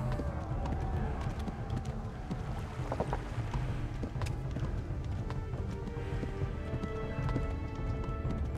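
Fast, dense thudding of galloping horse hooves in Kingdom Come: Deliverance, under a rushing wash of background noise, sustained and loud throughout.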